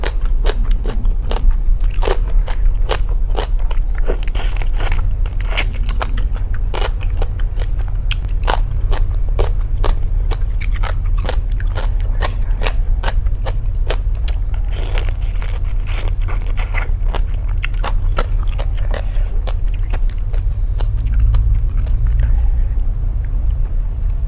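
Shrimp heads bitten and crunched while eating, close and loud, with rapid sharp crackling crunches repeating steadily and no talking over them.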